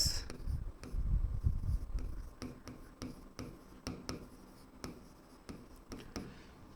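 A pen or chalk writes out a math solution by hand in a series of quick scratches and taps, with strokes and rhythmic ticks spread evenly across the passage, close and fairly quiet.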